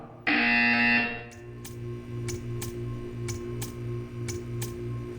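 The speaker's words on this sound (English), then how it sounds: "You will hear a buzzer." A loud, steady electronic buzzer in the video game Portal 2 blares for about a second, then stops, leaving a quiet hum with faint regular ticking.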